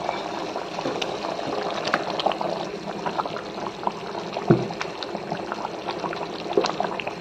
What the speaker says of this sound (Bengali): তরকারিটা ফুটতে শুরু করেছে